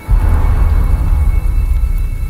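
A heavy rain and thunder sound effect for a nighttime office scene, a loud, dense downpour with deep rumbling thunder rolling steadily underneath, close and unbroken, with no voices.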